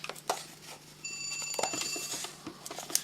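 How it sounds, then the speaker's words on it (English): Telephone ringing indoors, a steady electronic ring tone with bright repeating pulses running through the second half, moderately loud over scattered tapping and handling noises. "And ignore the phone call."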